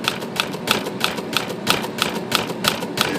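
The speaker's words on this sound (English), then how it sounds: "if you just type along here" Remington Quiet-Riter typewriter typing in a steady, fairly even rhythm of sharp keystrokes, about ten strikes over a few seconds, close and clear with no voices.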